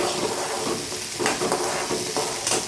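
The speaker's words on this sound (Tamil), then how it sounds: "ஆனில் வச்சுட்டு இப்போ நீங்கள் ஃப்ரை பண்ணிக்கோங்க" Garlic frying in a pan for garlic chutney, a steady close sizzle with occasional stirring scrapes throughout, no talking.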